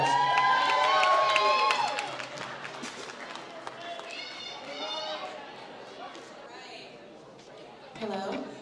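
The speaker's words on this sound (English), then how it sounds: "Let's give them a round of applause" A school fashion show crowd cheers and whoops with loud vocal shouts, followed by scattered clapping and chatter that fades to a murmur, with a brief burst of cheering near the end.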